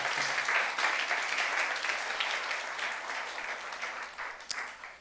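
A church congregation applauds together in a sustained, dense wash of clapping that stays steady and fairly full, slowly easing off toward the end.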